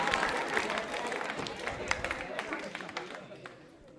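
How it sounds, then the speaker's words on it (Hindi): Loud audience applause at a school quiz show, a dense wash of many hands clapping that stays strong and then slowly fades, with crowd chatter and a voice mixed in. "तालियां जोरों से बजाइए कमल जी के लिए"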